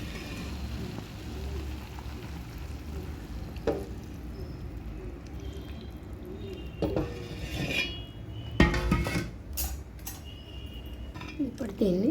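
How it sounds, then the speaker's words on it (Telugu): Chicken pieces fry in groundnut oil in a pot, giving a steady sizzle with occasional clinks of utensils against the metal, and a voice talks over it. "చూసారా, ఆయిల్ పోసిన తర్వాత ఇలా వేగుతూ ఉంటుంది అనమాట."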